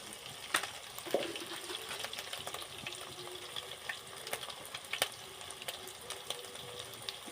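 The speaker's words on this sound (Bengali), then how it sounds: "এবার আমি জিরের গুঁড়ো 1 চামচ দেবো।" Ground cumin fries in a pan with tomato, a faint low sizzle broken by occasional sharp clicks of a spoon against the pan.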